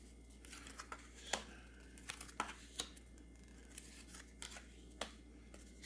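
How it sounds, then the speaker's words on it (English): Tarot cards laid down on a table one after another, with scattered soft slaps and paper rustles, faint and close in a quiet room. "I'm going to throw down all 5 cards."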